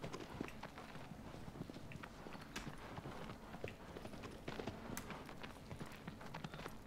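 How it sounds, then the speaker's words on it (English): Horse hooves trot in a steady, rapid clip-clop rhythm through Shadow of the Colossus, loud and continuous across the whole stretch with no talking. "Would you stop trotting like a weirdo? And run like a normal horse."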